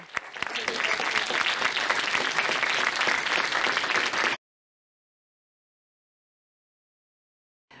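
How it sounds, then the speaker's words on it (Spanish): Applause for the first panel at an artificial intelligence conference: a full round of clapping from the audience that runs for about four seconds, then stops abruptly, leaving near silence. "un fuerte aplauso para los componentes de la primera mesa"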